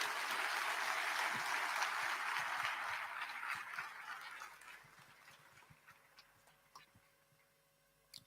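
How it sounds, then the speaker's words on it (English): An audience at an induction ceremony for newly qualified medical and dental practitioners gives a broad round of applause that starts full and steady, then fades over several seconds into sparse, isolated claps. "Another big applause for Professor Chairman."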